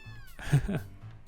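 A single short cat meow from the video game Gravity Rush Remastered, fairly clear and close, over a faint background hum.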